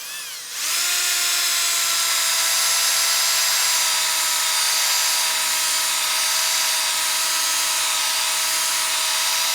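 A wood lathe spins up and turns a poplar platter while 220-grit sandpaper works the surface, making a steady loud motor whine with a rising start and constant hiss, close by and with no voices.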